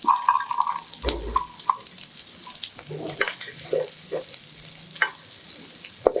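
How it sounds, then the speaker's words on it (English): Cabbage and bean sprouts are stirred and sautéed in a pan for fried rice, with close spatula scrapes and clinks over a soft sizzle. "Sauté them well and then add the scrambled egg."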